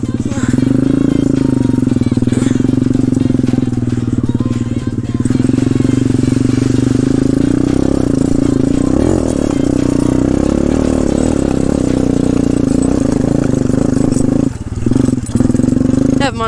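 A pit bike motorcycle ridden through mud, its engine droning loudly and continuously at close range with small shifts in revs and a brief dip near the end, with no voices.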